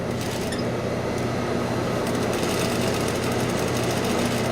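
A sewing machine runs continuously while stitching around a shirt collar with a half-inch seam allowance, a dense steady mechanical whir and buzz with no breaks.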